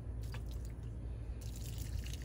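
A little water trickles and drips onto pea plants in a fall garden, soft and close, with a steady low outdoor rumble beneath and no talk.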